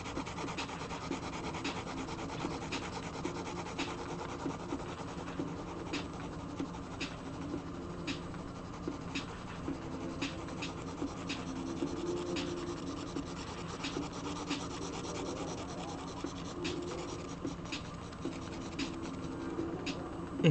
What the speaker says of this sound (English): So I'm just going to do the whole thing with the H pencil here.